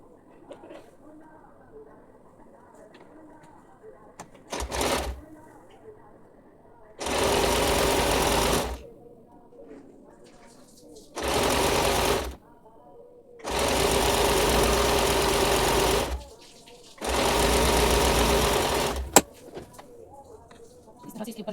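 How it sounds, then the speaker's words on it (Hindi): Sewing machine stitching the bottom part of a salwar, running in five loud bursts of steady whirring of a few seconds each, separated by quiet pauses with faint handling noise. "अब हम इसकी बॉटम पार्ट की सिलाई करके पलट लेंगे यहाँ से"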